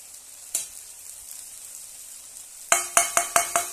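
Potatoes and tomatoes frying with spices in a pan, a low sizzle followed by a quick run of loud rhythmic spoon scrapes and stirs near the end.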